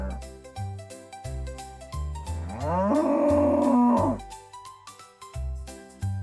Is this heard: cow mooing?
yes